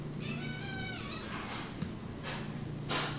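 A house cat meows near and clearly: one long drawn-out wavering meow, then several shorter calls, over a low steady room hum with no talk.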